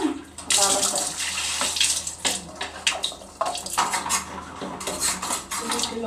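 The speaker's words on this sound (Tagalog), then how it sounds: "Hugas tayo ng electric fan." Parts of an electric fan are washed with water in a household setting: running and splashing water mixes with clattering plastic pieces knocking together. The sound is close and uneven, with occasional talk over it.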